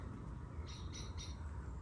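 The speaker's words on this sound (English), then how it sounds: "Oh, blackbirds chirping well." Blackbirds chirp in the evening at a wild camp on a cycling trip, a few short bright calls close together against a steady background hiss.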